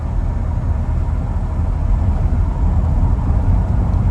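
A one-owner 1973 Chevrolet Chevelle pulls away after being shifted into drive, its engine giving a steady, close low rumble that holds evenly throughout with no voices.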